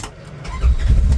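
Engine of a Polaris General UTV, cold, running with a low rumble that swells louder partway through, close and brief with no talking.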